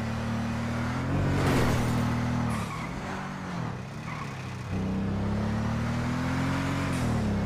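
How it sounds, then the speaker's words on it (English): Bugatti supercar driving in the video game GTA 5, a steady loud engine drone that dips briefly midway and then picks back up, with no voices. "Rami's Bugatti. He's got the Bugatti"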